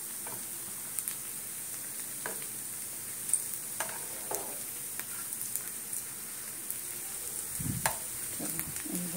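Food frying in hot oil gives a steady, faint sizzle close by, with scattered pops and the occasional scrape of stirring.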